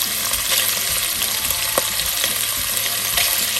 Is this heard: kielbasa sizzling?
yes